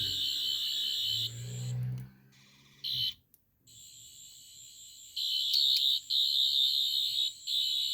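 A Nawya Replicas season 4 sonic screwdriver replica toy gives out a loud, steady high-pitched electronic whine in two bursts with a short gap between them. A low rumble sits under the first burst.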